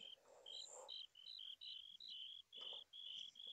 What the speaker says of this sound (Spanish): no me gustan los grillos